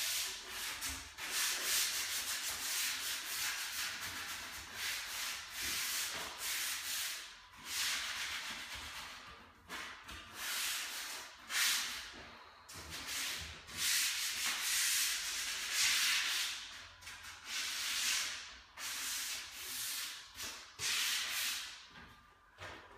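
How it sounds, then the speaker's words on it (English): A sanding pad rubs down undercoat on a wooden door frame, making continuous rhythmic scratchy strokes that rise and fall for over twenty seconds, close and fairly loud, with no voices. "So I'm just going to give it a rub down, but I'm not going to go too mad on that as long as it's smooth."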